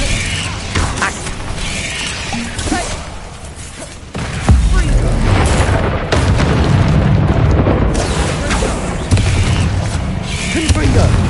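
Repeated Confringo fire-bolt spells explode in Hogwarts Legacy, loud booming bursts at uneven intervals mixed with other spell effects, a voice speaking over parts of it.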